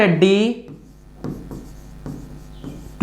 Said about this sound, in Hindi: चलिए लिखते हैं